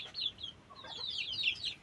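Chickens clucking inside a coop enclosed with polythene sheeting on a cold morning, with soft, quick, high-pitched murmuring clucks and chirps from a few birds close by.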